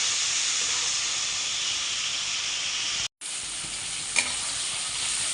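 Seasoning frying in hot oil in a pan while being stirred, a loud continuous sizzle and hiss close up, broken by a brief silent gap and a single scraping clink.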